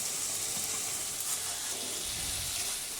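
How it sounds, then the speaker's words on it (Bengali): Beans and potatoes fry in a pan, giving a steady, even sizzle with soft stirring scrapes, fairly quiet and close, with no voices over it. "এখন বিনস দিয়ে দিল আলুর সাথে বিনসগুলি ভেজে নেব"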